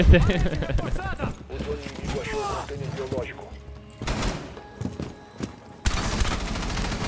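Rapid bursts of gunfire crackle through a busy Rainbow Six Siege ranked match soundscape, heavy volleys mixed with impacts and people talking over the action.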